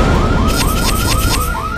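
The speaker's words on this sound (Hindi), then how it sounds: "ये अलार्म तभी बजता है जब कोई फ्रॉड इसको खोलने की कोशिश करे।" A locker security alarm rings loudly and alone, an electronic tone repeating in a rapid, regular pulsing pattern of rising chirps.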